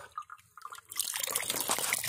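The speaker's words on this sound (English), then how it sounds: "There goes the water." Water gushes from a turned-on pipe, starting with a few faint drips and then bursting into a loud, steady splashing flow that continues close by.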